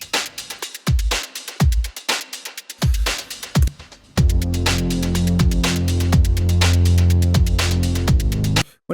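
A drum break for an electronic track, processed with glue compression, reverb and delay and rolled off at the lows and highs, hits in punchy staccato beats before a dense, sustained reverberant wash takes over, loud and close.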